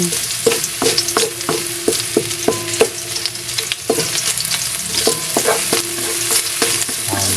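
Garlic sautéing in hot oil for a sardine dish, a steady sizzle broken by repeated sharp scrapes and taps of a utensil stirring against the pan, close and fairly loud with no talking.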